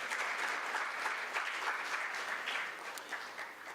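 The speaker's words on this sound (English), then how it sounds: "Please give them a big round of applause." Dense, steady applause from a summit audience fills the room at a conference on innovation and Africa's future, a loud continuous wash of clapping with no talk over it.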